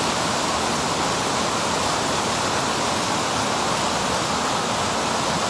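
Water rushing steadily at a swimming hole beside a log bridge, a dense, constant broadband wash like a small waterfall, loud and even throughout with no voices.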